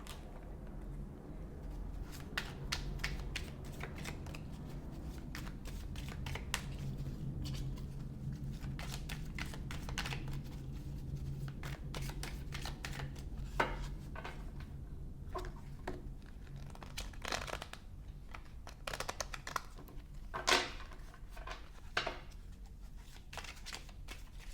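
Playing cards being shuffled and drawn during a tarot-style card reading, a soft continuous papery riffling with scattered crisp snaps and flicks, close and fairly quiet, with no talking.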